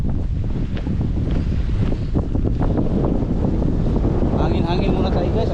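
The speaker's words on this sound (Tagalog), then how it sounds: "Ang lakas ng hangin dito sa ano, sa tabing dagat." Strong wind gusts roar steadily across the microphone at the seaside near mangroves, a loud continuous rush of buffeting noise, with a voice speaking faintly beneath it.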